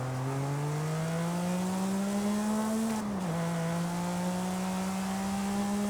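A Porsche 911 997 with a 3.6 flat-six in Forza Horizon 5 drones at high revs, its pitch climbing steadily, dipping briefly at a shift, then rising again in a loud, sustained game-engine tone.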